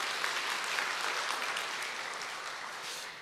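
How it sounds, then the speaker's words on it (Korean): Church congregation applauding in praise during a Korean Sunday worship service, a steady dense wash of many hands clapping that fades slightly toward the end, with no voices. "우리 하나님께 영광의 박수 한번 올려드릴까요?"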